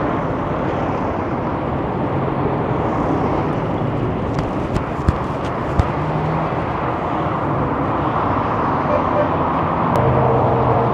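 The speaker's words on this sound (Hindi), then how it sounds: "गाड़ियों का आवाज़ है, गाड़ियों की बहुत ज़्यादा है।" Heavy road traffic beside a busy Tehran highway, a dense steady roar of passing vehicles that stays loud and close throughout, broken by a few brief sharp knocks.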